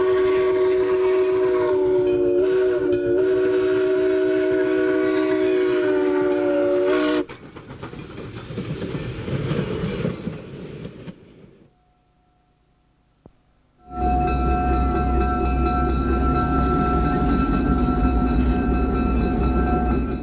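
Steam locomotive 1630 at the Illinois Railway Museum, heard at first as a loud, steady chuffing with a sustained whistle-like tone. It drops to quieter rumbling and near silence, then returns as a loud, continuous rolling roar.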